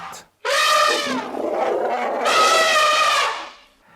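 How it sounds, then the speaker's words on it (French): A savanna elephant trumpets in two long, loud, harmonic blasts that run almost continuously, a brief dip between them before fading out. "notre premier animal que nous avons choisi, c'est l'éléphant de savane"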